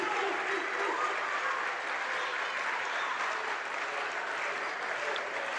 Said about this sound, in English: this whole clapping sequence is being led by the Pioneer volleyball alumni